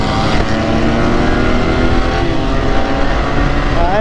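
Motorcycles in an impromptu street drag race roar with loud, continuous engine drone, revs climbing and shifting as they pull away, a rising whine near the end.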